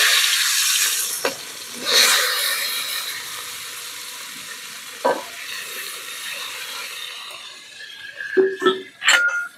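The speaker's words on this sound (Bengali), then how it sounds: "এবার আমি সবজিগুলো দিয়ে ভেজে নেব।" Vegetables fry in white oil in a wok with a continuous close sizzle, punctuated by a few scraping stirs and clattering spoon knocks toward the end.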